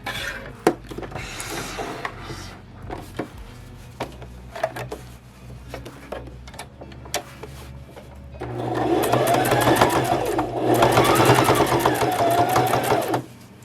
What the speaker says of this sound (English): I am gonna top stitch